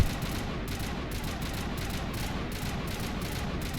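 Gunfire in Mass Effect, shot in slow controlled bursts at a tough Krogan enemy. A dense, steady rattle of shots carries on under a constant low rumble, with no pauses between bursts.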